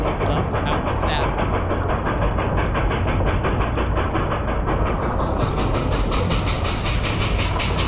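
A steam locomotive labouring up Hermosa Hill, worked as hard as possible with sand going into the firebox; loud, continuous, roaring exhaust with rhythmic beats and a rattling, clattering train close by.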